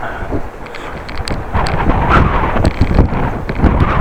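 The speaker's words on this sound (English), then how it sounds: "It's quite windy" Strong wind buffets the microphone of a bike-mounted action camera in loud, uneven gusts that rumble continuously throughout, with no other clear sounds.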